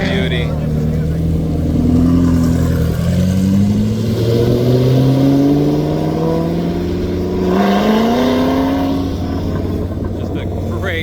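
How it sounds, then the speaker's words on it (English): A GT sports car's exhaust revs up and down in rising, sweeping pulls at a Sarasota Cars and Coffee car show, loud and close, with voices in the background. "Just a great exhaust on that GT. Best sounding one in the world, in my opinion."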